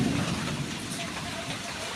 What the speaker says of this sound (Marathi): तर हे बघा पूर्णपणे पावसाने वादळ इला.